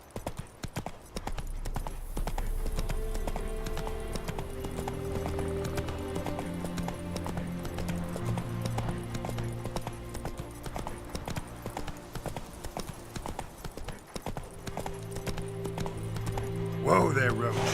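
Roach the horse galloping in the video game The Witcher 3, a steady run of hoofbeats through the whole stretch, blended with game music and ambience, with a louder burst near the end.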